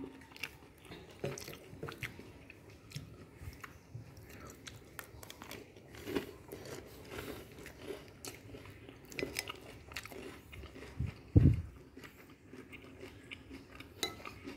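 Someone bites and chews crunchy fried vegetable and chicken spring rolls filled with vermicelli, with soft, faint crunching and chewing throughout and one louder crunch near the end.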